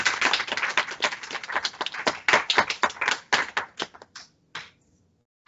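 An audience claps at a lecture on sleep as a business skill, with a burst of many close hand claps that thins out and stops after a few seconds.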